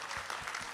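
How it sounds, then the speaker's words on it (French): Brief, faint applause from the audience at a BCC Canada graduation ceremony: a soft wash of many hands clapping, heard from a distance for under a second. "Est-ce qu'on peut encore les applaudir,"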